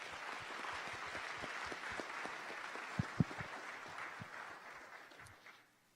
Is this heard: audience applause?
yes